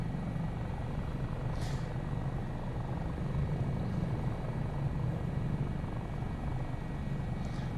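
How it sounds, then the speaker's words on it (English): Steady low drone of an AS365 N2 Dauphin helicopter of 658 Squadron Army Air Corps heard from the cabin in flight, constant rotor and engine roar with faint high ticks and no talk. "It is a nice helicopter."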